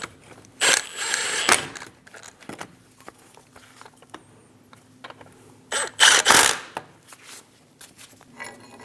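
A ratchet clicks in bursts while snugging down bolts on a front lower control arm of a 2001-2006 Chevrolet Silverado 2500 HD, quick ratcheting runs separated by pauses, with small metallic taps and handling noises between them.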